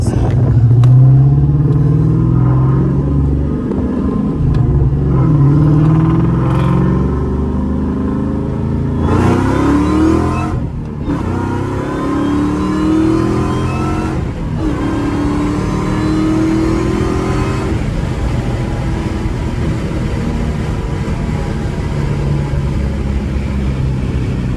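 A supercharged Mustang 2V engine revs hard through an acceleration pull, a loud continuous roar rising in pitch with gear changes and supercharger whine, a voice briefly audible over it.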